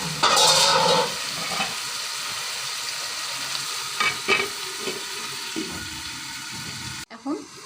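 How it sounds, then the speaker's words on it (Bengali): A fish head frying with spices in a pan for a North Bengal shidol dish gives a loud sizzle at first, then settles into a steady crackle with occasional stirring scrapes and a final clatter. "এখন মাথার সঙ্গে মশলাটা কষিয়ে নেব।"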